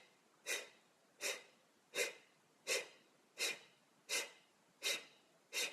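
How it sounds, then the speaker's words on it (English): Rhythmic choo-choo pranayama breathing: eight sharp, forceful exhalations through the mouth at an even pace about one per second, close and clear with no other sound. "out comes the breath. Choo-choo breath."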